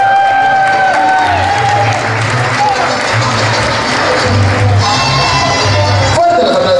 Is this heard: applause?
yes